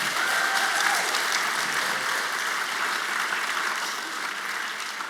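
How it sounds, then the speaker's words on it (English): A large audience at a first-generation student celebration bursts into loud, sustained applause, a dense wash of clapping close by that fades slightly toward the end. "Can we give Dr. Dillard one more round of applause, please?"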